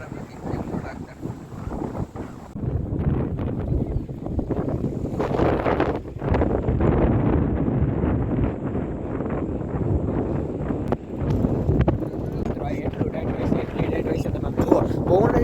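Strong wind roars and buffets the microphone steadily throughout at a dam, with a voice speaking intermittently underneath.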